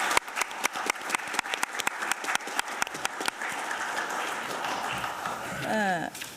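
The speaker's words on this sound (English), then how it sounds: "Another round of applause." Applause at a meeting of parliamentary committee chairpersons, crisp individual claps at first, then swelling into a dense, steady round from the room; near the end a voice starts speaking over it.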